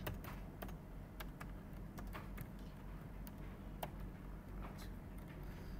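Someone types Java code on a computer keyboard. The key taps are quick and irregular, with occasional sharper clacks, at a fairly quiet, close level and without speech.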